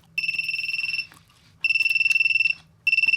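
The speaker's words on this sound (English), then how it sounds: "the beeper's working properly too" The electronic beeper of a Radio Shack Executive Decision Maker sounds in three bursts of rapid, pulsing high-pitched beeps, close and clear, with short pauses between them.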